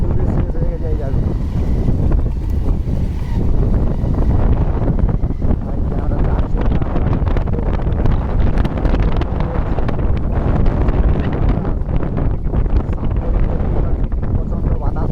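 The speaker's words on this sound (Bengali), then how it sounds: "প্রচণ্ড বাতাস হচ্ছে" Strong storm wind buffets the microphone in a steady, loud roar through the whole stretch, with heavy low rumble and gusty bursts; a voice may be faintly mixed in.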